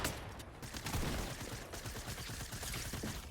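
Pistol shots ring out in a volcano-map shooter game, a dense run of rapid reports under loud, busy in-game noise with no voice over it.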